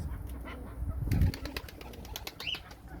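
Pigeons are close by, with brief wing flapping and soft cooing over a short stretch, moderately loud with no talking.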